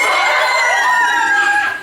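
A loud, sustained crow-like call lasting nearly two seconds, with a strained, rising-then-falling tone, a human voice imitating a rooster at a convention panel.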